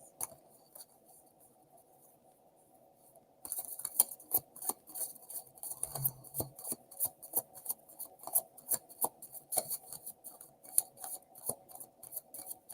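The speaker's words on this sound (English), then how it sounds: "We got a good shuffle in there." Tarot cards being shuffled make quiet, rapid papery clicks and riffles that start after a near-silent opening and continue close by in an uneven rhythm.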